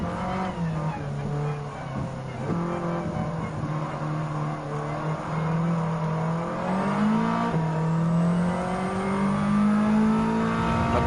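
Race car engine in the video game Gran Turismo 7, a loud sustained drone that climbs and shifts in pitch as the car accelerates through gears on a final lap, with no talk over it.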